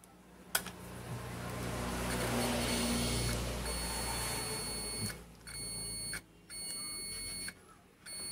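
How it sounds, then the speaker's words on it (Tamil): Digital multimeter in buzzer continuity mode while probing a Sony 42-inch TV motherboard for a short, giving a sustained high electronic tone that cuts off and restarts in several bursts near the end, close and clear. "இதில் பார்த்தீங்கன்னா எங்கே தொட்டாலும் பீப் தாங்க காட்டுது"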